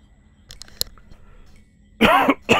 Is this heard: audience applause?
no